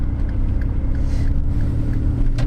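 Car pulling gently out of a parallel parking spot on a snowy Canadian street, a low steady engine hum and rumble close by, with no talking.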